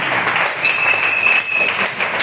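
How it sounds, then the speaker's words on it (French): A church congregation breaks into dense, sustained applause during a worship service, a steady wash of many hands clapping together with a faint tone running through it. "Acclame encore de là où tu es assis."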